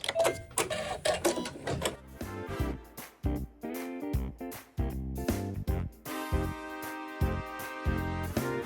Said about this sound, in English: we'll sew the satin stitch on our remaining 2 raw edges that we need to cover up